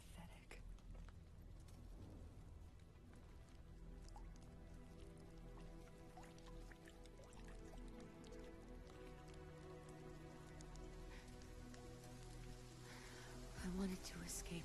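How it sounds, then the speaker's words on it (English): Steady rain pattering and dripping nearby, a continuous wet patter with low music or a hum underneath. "Is this rain?"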